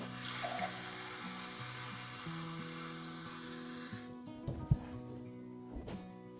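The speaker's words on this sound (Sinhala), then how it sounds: "අපි සාම්බාරේට හොඳට වතුර ටිකක් දානවා" Water poured into a pot of sambar, a steady close splashing stream for about four seconds that then stops, followed by a few soft knocks, with a low hum underneath.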